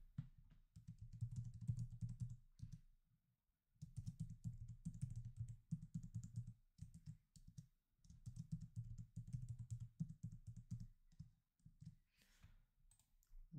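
Typing on a computer keyboard to enter a username and password comes as close, quiet bursts of quick key clicks separated by short pauses.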